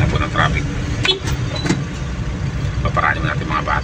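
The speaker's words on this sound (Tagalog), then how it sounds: "Mahaba po yung traffic kasi nga po nadahan-dahan lang dumadaan kaya mahaba yung traffic." Cars creeping slowly through a flooded road in Salacot, San Miguel, Bulacan, a steady low rumble of idling and moving engines with occasional clunks, while people talk over it nearby.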